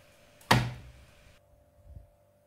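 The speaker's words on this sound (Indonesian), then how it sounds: "tutup laci sabun mesin cuci hingga rapat dan terkunci" A washing machine's detergent drawer is pushed shut firmly, giving one sharp close thunk followed by quiet, with a softer faint bump about a second and a half later.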